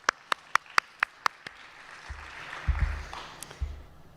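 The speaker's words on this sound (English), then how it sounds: "applause here." A few people clap to close a poster presentation at a conference: about six sharp, evenly spaced claps, followed by a low rumble of room and handling noise.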